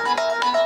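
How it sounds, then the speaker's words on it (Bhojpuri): A mobile phone rings at night with a short, bright electronic melody of repeating tones, loud and close, with no voices over it. "इतना रात कौन फोन करता हो"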